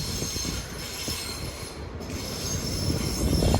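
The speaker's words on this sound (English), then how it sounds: "ECS movement from Ashford down the sidings to St Pancras." An empty coaching stock train rolls through the Ashford sidings toward St Pancras, its wheels squealing and rumbling continuously at close range, building slightly louder toward the end with no voices.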